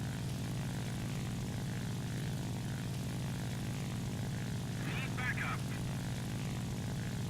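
A steady drone of propeller aircraft engines in a War Thunder air battle involving a P-47, constant and fairly loud, with a brief higher whine partway through.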